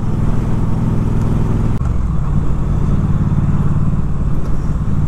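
A 2019 Triumph Street Twin motorcycle rides through town, its engine giving a steady, close low drone with wind rumble throughout and a brief dip partway through.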